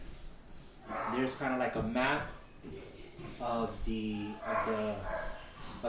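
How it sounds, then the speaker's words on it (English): A dog barks and yips repeatedly in short bursts in the background while a person talks over it. "You can hear my dog in the background."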